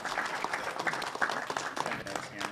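An audience at a business event gives a steady round of applause, dense clapping throughout with voices mixed in.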